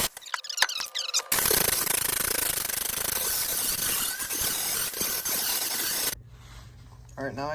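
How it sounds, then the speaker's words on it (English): An angle grinder grinds down old weld on a car's oil pan during an in-car engine rebuild, a harsh continuous metallic screech up close that runs for several seconds before cutting off, with brief talk before and after. "just make sure I'm grinding down the thick stuff so I don't break through the oil pan again"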